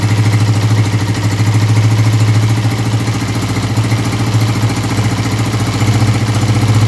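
A CG125 motorcycle engine runs loud and steady at raised revs during a petrol mixture adjustment, with a continuous clattering drone and no voices.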